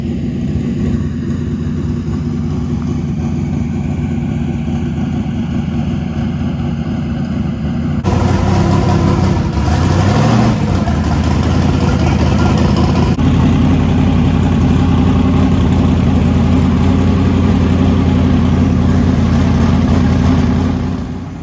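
A repaired truck engine rumbles loudly and continuously, idling with a deep steady drone that steps up in intensity partway through, with no talking.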